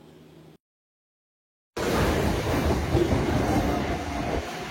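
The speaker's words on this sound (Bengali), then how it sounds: "ট্রেন ছেড়ে দিয়েই কিন্তু 92 প্রায় স্পিডে উঠে গেল" A MEMU special train running at speed, a loud steady rumble of wheels on rail with rhythmic clatter, heard from on board after a short cut to silence.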